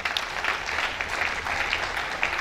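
An audience at a company summit claps in a dense, steady burst of applause that fills the hall at moderate loudness for a couple of seconds.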